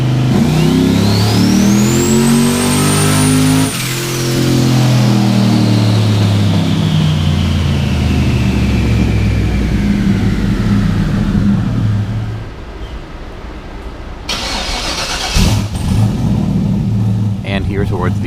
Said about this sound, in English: Power just wants to go straight up into the rev limiter, and the dyno pulls are very short.